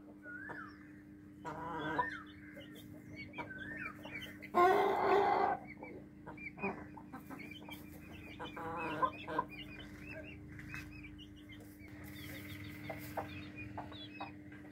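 Hens clucking on a small farm with Indian Runner ducks and guinea fowl nearby, a laying hen among them; repeated clucks come in uneven bursts close by, with other fowl calling over steady background noise, including a louder squawk near the middle.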